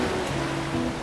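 Sea waves washing onto a beach make a steady, soft rushing wash with no distinct breaks, joined by a low, even humming tone underneath.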